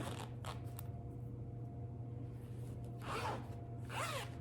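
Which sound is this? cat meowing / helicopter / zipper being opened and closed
zipper being opened and closed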